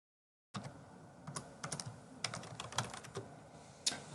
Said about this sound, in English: Okay, so I just wrapped up the typing